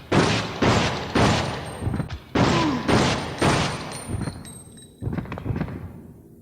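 A Handgun SG fires at a zombie in Resident Evil Outbreak, about six or seven loud, evenly spaced gunshots, each followed by a short decaying echo and faint mechanical clicks.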